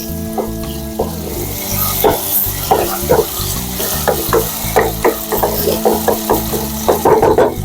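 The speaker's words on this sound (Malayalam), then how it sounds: "നമ്മൾ ചെയ്യുന്ന മുരിങ്ങയ്ക്കായും കൂടെ നമുക്ക് ഇട്ട് കൊടുക്കുന്നു ജസ്റ്റ് ഒന്ന് വഴട്ടെ" Drumsticks and curry leaves sauté in a hot pan for a tomato curry, a steady sizzle broken by repeated scraping strokes of a spoon, close and clear with no talking.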